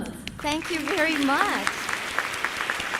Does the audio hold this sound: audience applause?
yes